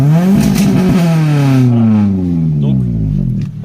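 A Toyota Celica T23 with 143 hp is revved hard in neutral against its rev limiter, giving a loud, raspy engine roar that bounces and stutters at the cutoff, then drops away as the revs fall.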